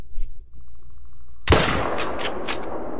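A single loud 10mm rifle shot in the hunting game theHunter: Call of the Wild, a sharp crack after quiet ambience followed by a long echoing tail with rolling reverberations.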